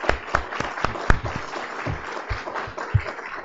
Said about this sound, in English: I think we could give an applause